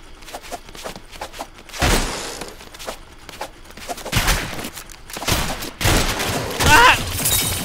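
Shotgun blasts in a cartoonish 1v1 arena shooter game: a few loud, sharp bursts spaced a second or so apart, with lighter clicks and game effects between them.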